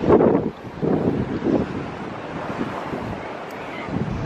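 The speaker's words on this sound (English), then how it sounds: "Really windy." Strong wind gusts buffet the microphone in rough bursts, with a low roar of surf underneath, loudest at the start then settling into steady rumble.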